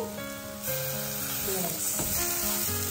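Sprouts stir-frying in a shallow pan, a steady close sizzle with soft stirring scrapes, while a low background tone hums throughout.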